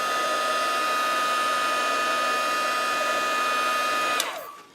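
A heat gun blows steadily on embossing glaze, a loud, even whirring hum with a faint whine that holds for about four seconds before the motor shuts off and winds down.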